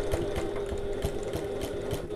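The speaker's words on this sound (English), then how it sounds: "I'm going to backstitch a bit." A sewing machine runs a short backstitch while sewing a bag, its needle thumping in a quick, even rhythm over a steady motor hum, close and moderately loud.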